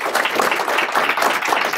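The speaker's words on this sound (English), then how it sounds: "please give them a big round of applause" Dense audience applause fills the space, a steady wash of many hands clapping together, loud and close, with no voices rising above it.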